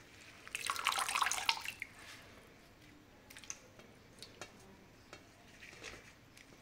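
Fenugreek leaves being washed in a basin of water, with a burst of splashing and sloshing near the start, then scattered drips and light water movement close by, no talking.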